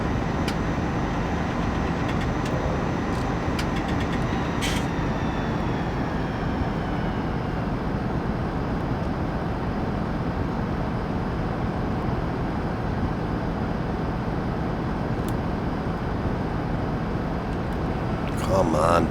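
Tractor engine in the farming game The Valley, a steady loud droning rumble running continuously with little change, a few sharp clicks along the way and a louder burst at the end.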